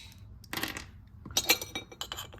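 Montolit wheeled mosaic cutters bite through pieces of smalti with two or three sharp, close cracks, each followed by bright clinks of falling glass fragments and no talking.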